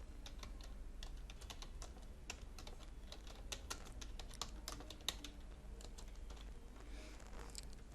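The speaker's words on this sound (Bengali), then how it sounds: "এখানে প্রয়োজন মতো লেখা টাইপ করে নেব।" Typing on a computer keyboard while writing a document in Word: a steady run of quick key clicks, fairly close and quiet, continuing without pause and with no talking.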